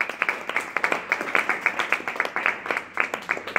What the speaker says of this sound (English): could you please give him a round of applause?